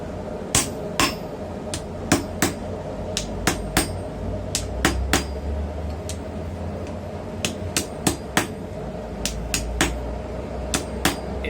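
A hammer strikes a hot cutting chisel held on an anvil in sharp metallic blows, some single and some in quick clusters, over a steady hum of forge noise.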